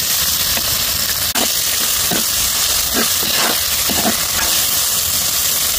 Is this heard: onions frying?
yes